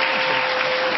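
Steady audience applause in a television studio, a dense even wash of clapping from the live crowd that holds at constant loudness throughout, with no voices over it.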